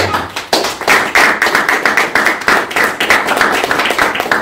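A church congregation claps together in quick, steady, rhythmic bursts, loud and close, filling the whole stretch with no talk.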